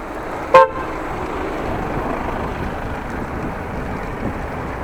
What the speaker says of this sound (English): The car behind it honked and wanted to go by.